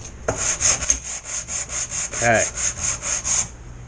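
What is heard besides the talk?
sanding wooden boat keel with sandpaper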